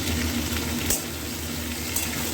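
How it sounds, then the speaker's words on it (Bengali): Chopped vegetables and onion fry gently in a home-kitchen pan, a steady soft sizzle with a brief clatter partway through and another near the end. "এই যে সবজি আর পেঁয়াজটা ভাজছি"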